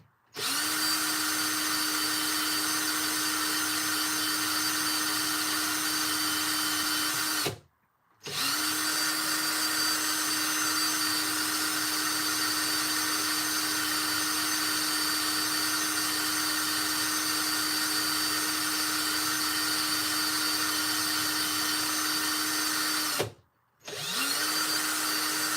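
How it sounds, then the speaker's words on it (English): A power drill whines continuously at a steady pitch while drilling a 1961 Benjamin Franklin half dollar to make a coin ring, stopping briefly twice before starting up again; loud and close, with no talking. "Because I'm putting the drill on."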